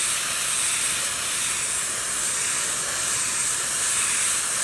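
A steamer hisses a continuous jet of steam onto carpet, a steady, loud, broadband rush held for several seconds with no pauses.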